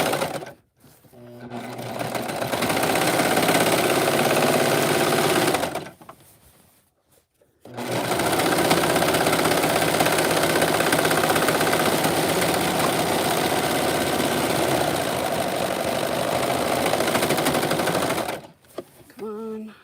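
A sewing machine runs loud and close in long, steady stretches, pausing briefly twice; its rhythmic stitching chatter fills the clip with no talk over it.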